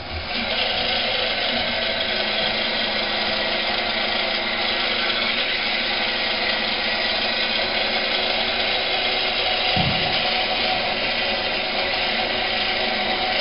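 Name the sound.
winch rewinding line with clutch in slip position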